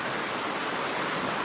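Steady heavy rainfall makes a short burst of dense, uniform hissing, close and loud, with no one speaking.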